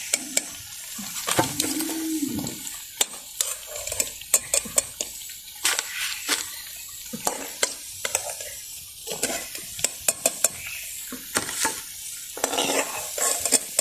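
Banana flower vadas frying in hot oil in a village kitchen, a steady crackling sizzle throughout with occasional stirring and utensil clinks close by.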